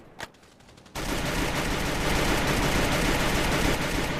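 Sustained, dense rapid-fire gunfire from a shooter video game, near and loud, starting abruptly after a brief quiet click and continuing unbroken to the end.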